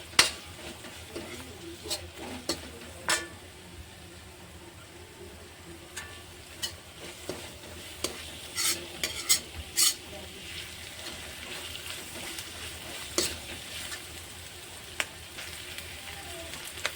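Onion and capsicum fry quietly in oil for chilli paneer, a low steady sizzle punctuated by scattered sharp clicks and taps of a spatula against the pan, with no talk.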